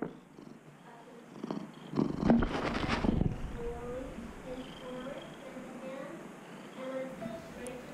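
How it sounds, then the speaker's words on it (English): Oscar the cat purring while standing on a stool, a soft rumbling purr that swells briefly into a louder burst before settling into a steady low drone, with a faint voice nearby. "He makes big purr sounds sometimes when he stands on that stool."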